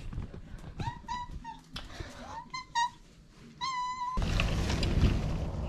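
A house cat meows repeatedly nearby, several separate drawn-out calls of varying length, followed by a burst of rustling and handling noise; a person speaks briefly.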